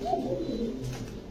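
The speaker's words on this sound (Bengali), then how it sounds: "সব সিঙ্গেল কবুতর যাচ্ছে এখন।" Pigeon cooing from a loft of male and female pigeons, including a double-crested male, with low, soft, rolling coos running steadily through the short stretch.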